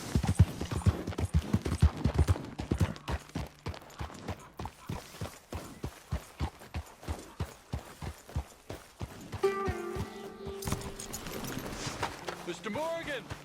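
A horse gallops in Red Dead Redemption 2, a rapid run of rhythmic hoofbeats that pounds steadily for several seconds before easing off, followed by tonal game sounds and a brief whinny-like cry near the end.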